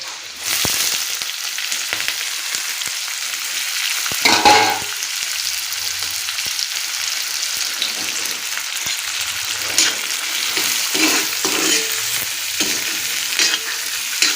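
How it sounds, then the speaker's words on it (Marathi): Onions sizzle steadily on a hot griddle over a wood-fired stove, with intermittent scraping of a spatula stirring them throughout. "कांदा जरा असा खरपूस भाजेपर्यंत तव्यावर परतून घेऊया"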